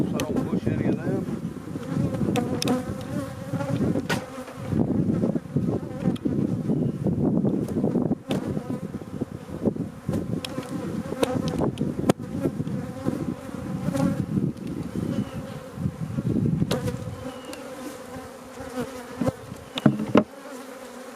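Honey bees drone around an open, crowded hive during a beekeeping inspection, a steady close buzzing swarm with individual bees zipping past the microphone, wind rumble underneath, and a few knocks near the end.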